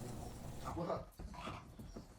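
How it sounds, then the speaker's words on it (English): An excited dog whimpers and whines over barbecue chicken in short soft bursts, faint and close, with human voices mixed in. "This dog couldn't contain their excitement after seeing some barbecue chicken"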